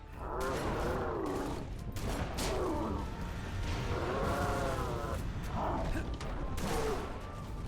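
Sniper rifle shots in Halo Reach strike a Hunter, landing as sharp separate cracks at irregular intervals while a voice talks over them throughout.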